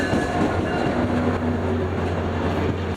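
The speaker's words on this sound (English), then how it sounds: "I'd then catch this southbound frontrunner with 109 leading." A southbound FrontRunner commuter train led by locomotive 109 rolls past close by, a loud continuous rumble with steady engine hum and wheel noise.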